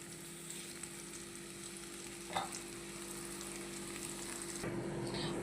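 Food frying in a pan for a Telugu raw banana masala curry, a soft continuous sizzle with crackling throughout, one brief sharper pop midway and a slightly louder hiss near the end, no talking.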